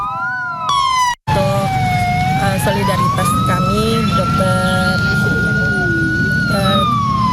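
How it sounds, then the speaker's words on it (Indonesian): The sirens of three ambulances sound together at a mourning vigil in a loud, sustained wail that rises and falls, with a brief voice heard at the start. "diakhiri dengan pembunyian sirine dari 3 unit ambulans"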